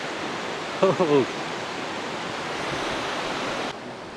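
A mountain waterfall stream rushes down past the Deurali trail toward Annapurna Base Camp in Nepal, a steady, loud, close roar of flowing water with a brief voice speaking early on.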